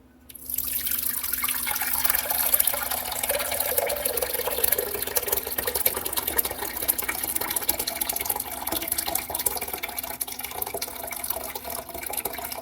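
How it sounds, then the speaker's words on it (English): Elderberry juice is poured off slowly from a bowl in a continuous close trickle and splash that starts abruptly and holds steady throughout. "I'm just going to pour it off slowly"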